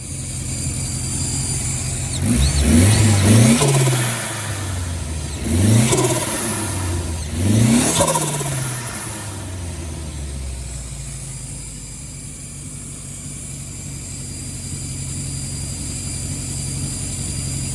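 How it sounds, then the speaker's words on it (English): A turbocharged Starquest car engine revs up three times in quick succession, each rev ending with a sharp hiss of a turbo blow-off valve, then settles into steady idling. "let me crank this up and let's get some blow-off valve tone"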